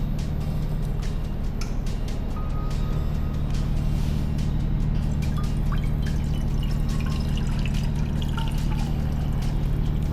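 Water poured into a pressure cooker for boiling corn, a steady trickling and dripping over a constant low engine-like hum, with occasional clinks and no clear talking.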